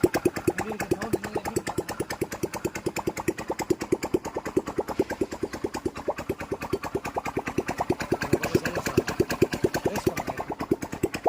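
A Honda Shine 125 BS6 motorcycle engine runs without a silencer after engine work, a loud, raw, rapid popping beat that stays steady and close throughout.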